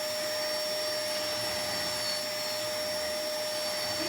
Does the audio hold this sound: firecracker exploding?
no